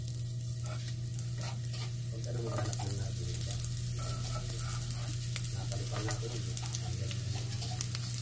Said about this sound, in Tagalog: pag alam naman na natin na mainit na ang mantika, ay ilagay na natin ang bawang at sibuyas.